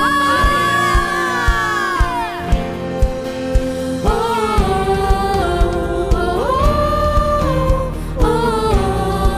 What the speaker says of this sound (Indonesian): Mari GBPR yang percaya sorakan haleluya